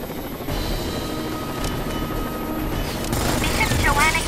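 Combat helicopter in the video game Rainbow Six Vegas 2, a continuous loud rotor roar close by, with game effects and voices over it.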